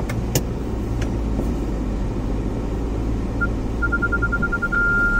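A Tata Nexon maneuvers slowly on an off-road track, its engine a steady low rumble close by, with a few clicks early on and a faint whine toward the end, no talk.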